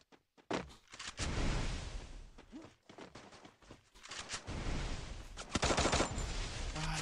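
Rapid bursts of automatic gunfire and scattered single shots from a battle royale video game, loud and dense across the whole stretch with brief pauses between volleys.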